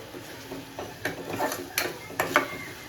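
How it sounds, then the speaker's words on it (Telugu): Mutton tripe curry stirred and fried in oil in a pan, giving a low steady sizzle with a few clinking scrapes of a spoon against the vessel, close and fairly quiet. "ఇప్పుడు ఇది బాగా కలిపేసుకొని చక్కగా ఆయిల్ పైకి తేలేదాకా మనం ఫ్రై చేసుకోవాలి."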